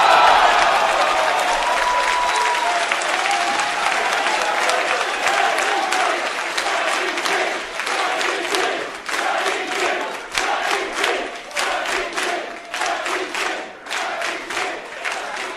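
A wrestling crowd in Fall River roars and applauds as a wrestler brings them to their feet at an independent show, a loud sustained mass of cheering and clapping that grows choppier with surges near the end, with faint commentary underneath.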